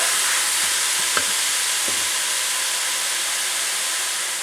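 Sausage, Italian sausage and ground beef browning in a pan for spaghetti meat sauce, giving a steady close sizzle with a few soft stirring scrapes and no talking.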